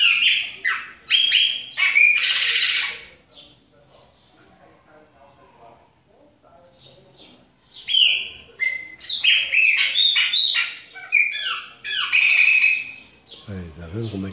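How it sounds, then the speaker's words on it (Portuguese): A female Viúva de Faísca songbird sings in close bursts of bright chirps and whistled phrases, with a quieter pause midway before the song resumes; a person talks quietly in the background. "é a viúva de Faísca que tá fazendo esse canto"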